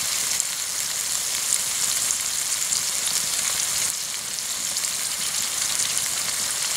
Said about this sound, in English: That's the water boiling back out of that grease.